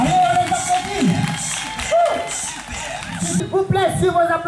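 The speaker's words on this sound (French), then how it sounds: "Allez, on les applaudit." Crowd at a women's day public event in Okouabo cheering and clapping, with loud lively voices and laughter filling the space.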